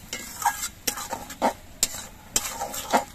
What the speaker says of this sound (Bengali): এবার মশলাগুলো কিছুক্ষণ কষিয়ে নিতে হবে।